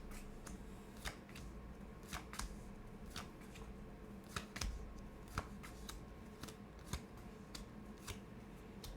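Tarot cards being shuffled, soft crisp riffling and tapping in an irregular rhythm, quiet and close, with no voices.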